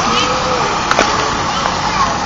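Water from a fountain splashes in a steady, close wash, with children's voices and chatter mixed in.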